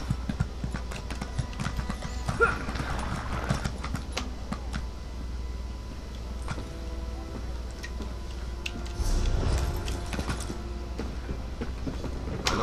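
Horse hooves clip-clop steadily in The Elder Scrolls Online, a rapid, even rhythm of hoofbeats over a continuous low game ambience, with no talk.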